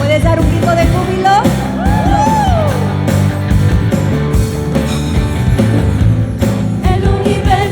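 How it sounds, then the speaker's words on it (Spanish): A church congregation shouts and cheers for joy over loud worship music, with voices whooping and calling out in a dense, energetic crowd roar. "¿Puedes dar un grito de júbilo?"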